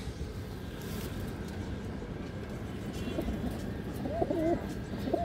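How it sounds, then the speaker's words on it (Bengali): A female pigeon at a pigeon farm gives a few soft, low coos near the end, over a steady, rumbling outdoor background. "এই দেখেন মাদি কবুতর।"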